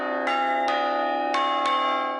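Short fragment of Beethoven's Ode to Joy, played by striking a church bell with a hammer: four loud, ringing hits in an irregular rhythm, each tone lingering and blending into a continuous metallic hum.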